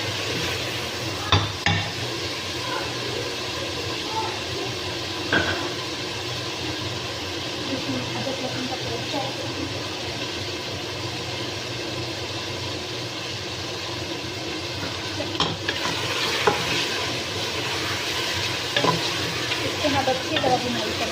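Mutton pieces being stir-fried bhuna-style in a pot for aloo gosht, giving a steady, close sizzle with scraping stirs and occasional clinks of a spoon against the pot throughout, with no talking.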